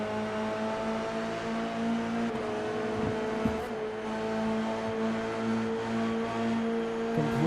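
Race car engine held at full throttle down a straight at Road America in a racing game, a sustained high whining drone with steady harmonics, a brief dip and gear-like shift midway, alone without talk.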